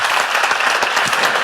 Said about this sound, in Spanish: Dale un aplauso a él también.